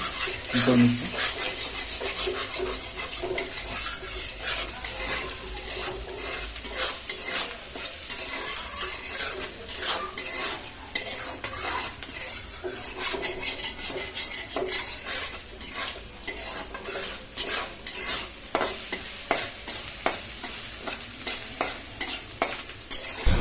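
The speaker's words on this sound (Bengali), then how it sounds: "এখন একটু ভালো করে এখানে ফ্রাই করে নেবো আমরা এখানটা নিয়েছি পেঁয়াজ তেজপাতা এবং জিরে" Onion, bay leaf and cumin fry in refined oil in a pan, a soft steady sizzle broken by frequent scraping strokes of a utensil against the metal, close up, with a short voice near the start.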